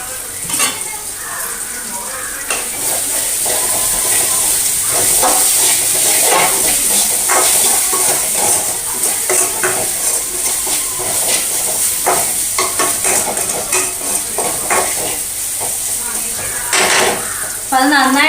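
Grated coconut frying in a pan for eggplant theeyal, stirred throughout: a steady close sizzle with repeated scraping strokes of the spoon against the pan, and no voices.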